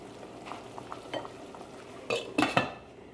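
A lid goes onto a pot of Lebanese potato and meat stew simmering on very low heat, heard as soft scattered clinks followed by a few sharp metallic clatters close by.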